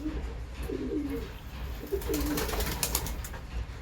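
A baby pigeon being hand fed makes soft, low cooing grunts up close, with handling rustles and small clicks around it.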